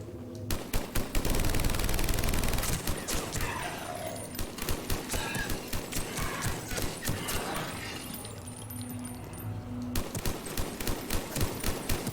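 A firefight in the video game Mass Effect, with rapid, loud bursts of automatic fire in repeated volleys, a sustained barrage early on and sharp rattling rounds throughout, set among game effects.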